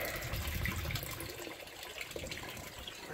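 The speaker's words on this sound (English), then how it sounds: "Bilge pump is working." Bilge pump on a 1989 Hurricane deck boat sitting in the water, discharging a steady gushing, splashing stream heard faintly and continuously.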